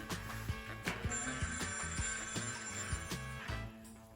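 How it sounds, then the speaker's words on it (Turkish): A toy shop telephone rings in a repeating electronic trill, with rapid pulsing bursts at a steady rhythm, moderately faint against a faint room background. "Aa çalıyor telefonun."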